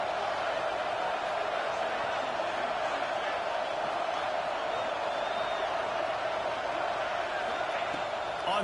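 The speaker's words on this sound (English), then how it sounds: "how nice is it to have the home crowd going absolutely bananas?" Home crowd in an NCAA 26 college football video game, Michigan vs Ohio State, roaring steadily and loudly throughout, a dense continuous wall of stadium noise with no breaks.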